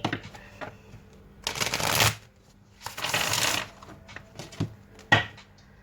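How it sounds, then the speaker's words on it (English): Thick deck of cards riffled in two separate bursts, each about half a second long, with light handling clicks and taps between them, close up and with no talk. "So this deck is really thick, so I'm going to shuffle them in 2 piles."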